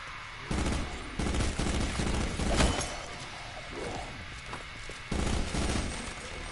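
Automatic turret in Black Ops 4 zombies fires loud, rapid gunfire in repeated bursts, with clattering game effects between the volleys.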